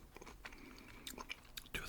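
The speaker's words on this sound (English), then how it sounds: "Crunchy chicken. Look at that crunch." A bite into crunchy Lee's Famous Recipe fried chicken, close and quiet, with several crisp crackling crunches and chewing sounds in an intimate setting.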